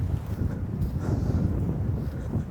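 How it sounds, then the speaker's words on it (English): Strong wind gusts across open brush during a deer rut hunt, a low rumbling roar buffeting the microphone continuously and fairly loudly, with no talking. "the wind was blowing so hard"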